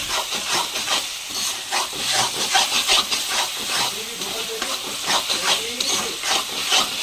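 Ginger paste, onions and tomatoes fry in a pan with a steady sizzling hiss that swells and fades in waves, while a voice talks over it.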